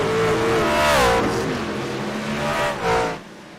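Race trucks roaring past on the New Hampshire oval, engines revving and pitching down as drivers downshift, two loud passes with a brief lull between.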